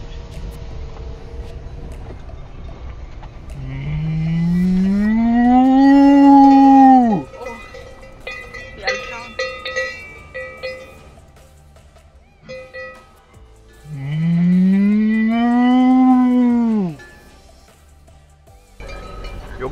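Two long, drawn-out moo calls, each rising then falling, come close and loud with a quiet gap between them. They sound like a human voice imitating a cow inside a camper van.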